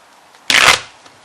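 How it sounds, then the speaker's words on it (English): Tarot and oracle card decks give one short, crisp burst of shuffling or riffling, close and fairly loud, with quiet before and after. "so I shuffled the decks"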